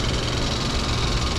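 A 2025 Hyundai i20 N Line manual idles at rest, giving a steady, even hum with no revving and no voices.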